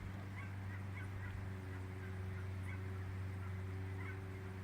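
Geese honk faintly in the distance, a few brief calls spread across the clip, heard outdoors over a steady low hum in the background.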